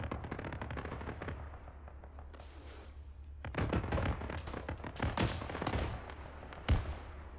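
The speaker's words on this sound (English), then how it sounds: "It's shooting at the wall." Repeated gunfire from the ArmA 3 military shooter, a sustained rattle of rapid shots with heavier bursts near the middle and a sharp loud crack near the end, mixed with distant battle noise.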